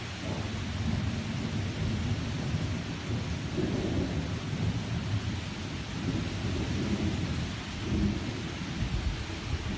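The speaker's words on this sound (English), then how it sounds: "looks like the storm's weakening, but then that happened." Rolling thunder rumbles through a nighttime thunderstorm, a low continuous roar with swells near the middle and end, under steady rainfall and no voices.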